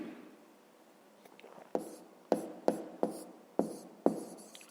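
A pen writes by hand on paper while working a school maths exercise. Soft rubbing comes first, then six sharp, close strokes follow at an uneven rhythm, with no voices.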